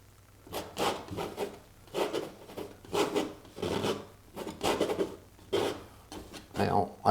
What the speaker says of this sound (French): on gratte toujours avec le dos du couteau